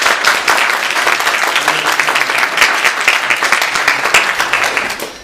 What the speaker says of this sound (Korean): 여러분 박수를 격려해 주시면 됩니다.